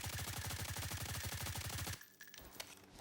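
Rapid automatic gunfire with low recoil rattles off in the game Blackhawk Rescue Mission 5, a fast, even burst of loud shots lasting about two seconds before cutting off into a quiet tail.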